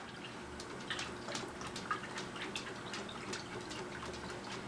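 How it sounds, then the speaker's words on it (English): Almond milk is poured into a bowl holding four eggs, giving a soft, continuous trickle with faint splashy patter over low background hum. "to the 4 eggs, I'm going to add 1 cup of almond milk"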